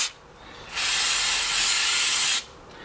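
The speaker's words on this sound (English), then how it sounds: "I'm just gonna grab some brake clean, spray it on a rag" A steady spray of aerosol brake cleaner onto a rag hisses for about two seconds, close and loud, then cuts off abruptly into quiet.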